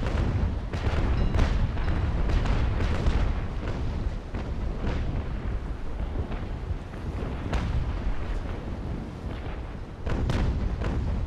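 Naval cannons fire in a sailing-ship port battle from Naval Action, heavy booms rolling in clusters and overlapping volleys, some near and loud, others distant, under a constant low rumble with no speech.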